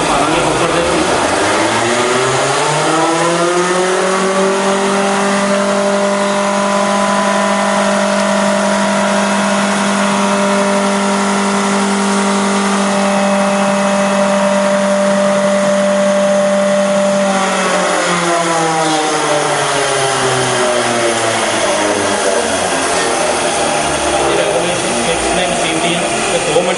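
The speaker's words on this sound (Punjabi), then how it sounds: "ਹੁਣ ਅਸੀਂ ਵਾਈਬ੍ਰੇਟਿੰਗ ਮਸ਼ੀਨ ਚਲਾ ਲਾਂਗੇ" Cement mortar cube vibrating machine running steadily at a constant hum with strong harmonic tones, then winding down near the end, loud and continuous throughout.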